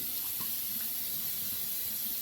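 A sink tap runs in a steady, quiet stream while a Henson AL13 safety razor is rinsed and sloshed clean. A few faint splashes rise above the constant flow, and there is no talking.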